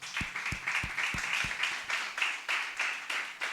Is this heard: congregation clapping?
yes